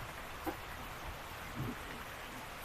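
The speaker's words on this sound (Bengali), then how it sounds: "আজকে বৃষ্টি শুরু হয়ে গেছে" Rain falls outside on a cool day, a faint, steady hiss of drops with a couple of soft patters rising briefly above it, heard from indoors with no talking.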